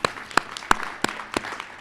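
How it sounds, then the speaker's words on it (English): An audience at an economic summit applauding, heard as a short burst of several sharp, loosely rhythmic claps over a couple of seconds. "let's give yourselves a round of applause"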